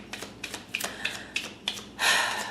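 Tarot cards are shuffled by hand close up, giving a series of quick crisp riffling clicks and ending in one longer, louder riffle, with no talking.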